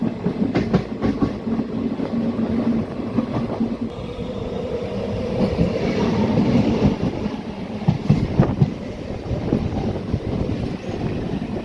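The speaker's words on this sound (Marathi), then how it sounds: "आणि आपली ट्रेन आता कोणतं तरी स्टेशन स्किप करत आहे." Riding inside the ICF-coach special train 07032 from Pandharpur to Tirupati as it runs through a station without stopping: a constant heavy rumble with scattered wheel clacks and brief louder bursts, no talking.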